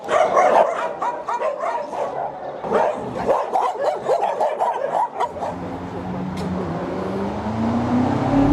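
Dogs at a winter animal shelter bark and yip loudly in overlapping bursts for several seconds, then fade to whimpers beneath a passing car; a person speaks over the barking.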